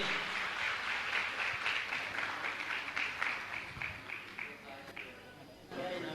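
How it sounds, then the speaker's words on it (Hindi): An audience at a religious gathering applauds a girl being honoured, a thick wash of many hands clapping steadily throughout, with voices audible beneath it. "जोरदार एक बार ताली तो हो जाए इस बेटिया के लिए।"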